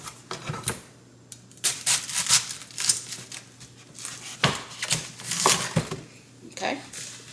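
A knife cuts a cabbage into wedges on a cutting board, giving crisp crunching slices and knocks against the board in uneven bursts. A person talks throughout.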